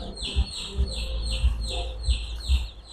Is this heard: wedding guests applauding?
no